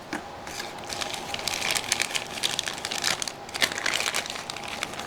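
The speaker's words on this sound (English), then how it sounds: "Plastic bag." A plastic bag crinkles and rustles up close in irregular crackling bursts for several seconds while a chisel is unpacked, with no voices.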